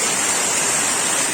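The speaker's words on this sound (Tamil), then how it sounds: "ஆஹா, மழை மண்டையிலே ஊத்துதுங்க" Heavy rain pouring down outdoors onto people's heads, a dense, constant wash of hiss and splatter that stays loud and unbroken throughout.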